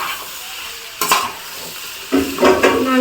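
Chicken noodles with soy sauce and tomato ketchup are tossed and stirred in a hot frying pan, a loud close sizzle under bursts of scraping as the utensil moves through the noodles, twice over.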